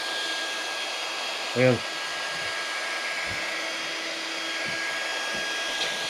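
A propeller blade on a small brushless RC motor spins on a bench and blows air across the table, making a steady, close whooshing whir throughout, with a brief spoken word near the start.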